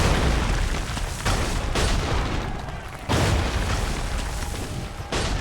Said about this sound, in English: The music is the sound of the cannon fire.